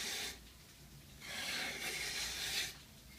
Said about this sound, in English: just pick up the 100 grit and finish it off. I'm using a very light touch.